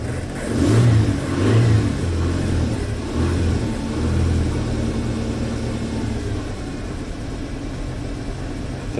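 Ford Ranger engine sitting in park and running rough, with a couple of uneven revs near the start before it settles into a lumpy, unsteady idle heard close by, with no talking.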